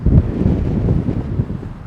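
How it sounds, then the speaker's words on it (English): Strong outdoor wind buffets a microphone beside a tripod, producing a loud, rumbling low roar that gusts unevenly and runs on its own without any talking. "wow, it's windy out here. My tripod keeps trying to blow over."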